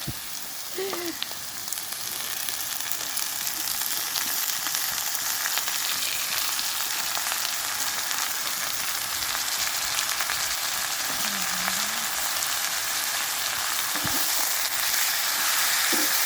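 Potatoes for a breakfast aloo bhaji fry in a pan with a loud, dense, unbroken sizzle, hissing steadily up close, with a few faint clinks partway through.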